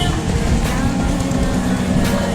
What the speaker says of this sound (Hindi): ये यहाँ का ट्रैफिक है।